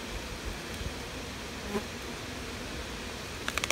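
Honeybees buzz inside a hive during a fall inspection, a steady low hum that stays faint and even throughout, with a few brief sharper ticks near the end.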